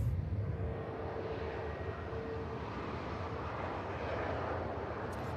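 A jet aircraft at Manchester Airport, heard as a steady broad engine roar at moderate distance that holds evenly throughout, with no voices.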